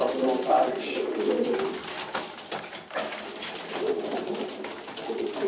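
Racing pigeons in a loft coo repeatedly in soft, overlapping throaty calls, fairly close, with a faint voice murmuring in the background.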